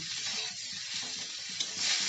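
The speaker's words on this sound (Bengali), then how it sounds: "এখন এইভাবে আমি 2 থেকে 3 মিনিট নাড়াচাড়া করে সয়াবিনগুলোকে ভেজে নেব।" Soybeans sizzle and crackle in hot oil in a wok while being stirred, a close, steady frying hiss with soft scraping stir strokes throughout.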